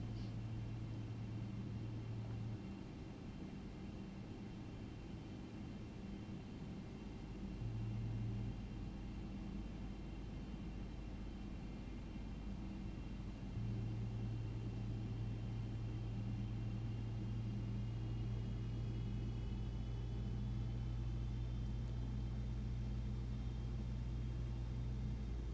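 Boeing 777 jet engines spooling up toward takeoff power in the X-Plane 11 flight simulator, a steady low rumbling drone with tonal hum that swells in steps, continuous and moderately distant, with no voices.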